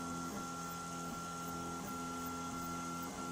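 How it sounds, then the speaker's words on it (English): A 3D printer printing a canopy part, its stepper motors whirring in a steady, continuous mechanical drone with faint tonal whine and periodic shifts as the print head moves, close and alone without voices. "Oh, the printer head's in the way."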